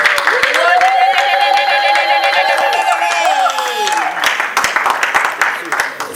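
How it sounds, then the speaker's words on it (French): Wedding guests at a church nuptial blessing break into applause and cheering, steady clapping with joyful ululating voices, loud and close, fading slightly toward the end. "Nous acclamons très fort."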